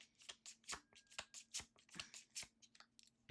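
A deck of Magic cards is shuffled close up, with a rapid, rhythmic series of riffling bursts, soft and crisp, with no voices.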